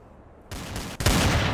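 Gunfire in Counter-Strike: Source, a burst of shots starting abruptly after a quiet moment, then a louder second volley close by, dense and continuous to the end.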